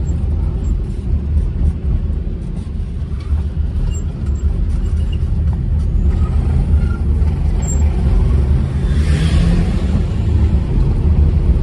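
A Tata Nano set up for off-roading sends out a loud, steady engine rumble that stays strong and continuous throughout, with no talk over it.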